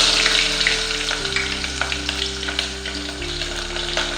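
Onion frying in hot oil with mustard seeds and cumin, giving a steady close sizzle and crackle with occasional stirring scrapes and a low background hum, no voices.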